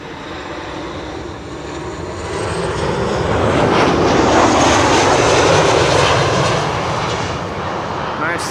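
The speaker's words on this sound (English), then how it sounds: "Bombardier C Series 300 arriving from Paris." An Air France Bombardier C Series 300 arriving from Paris roars past on approach to Schiphol, the engine noise building to a loud sustained rush and then easing off slowly.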